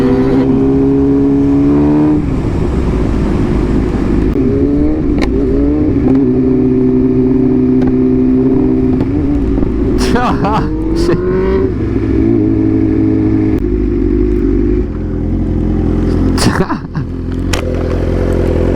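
A motorcycle engine idles and revs repeatedly, pitch climbing and dropping, loud and close with a few clattering knocks and faint voices.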